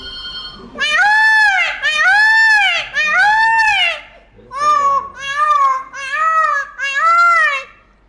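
A voice imitating a peacock, giving a series of loud, close, shrill wailing calls in two bursts of several cries each.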